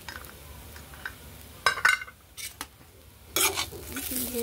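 Cashews, green chillies and peanuts stirred in a pan for an aloo pulao, with scraping clinks of a utensil against metal at a few separate moments, then a steady soft sizzle that continues to the end.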